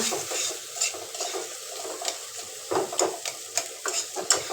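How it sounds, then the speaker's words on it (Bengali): Potatoes frying in a pan while being turned over, giving a soft, steady sizzle broken by scraping stirs and light clinks of a utensil against the pan, close by with no talking. "আলুটা একটু ভাজ ভেজে ভেজে নেব"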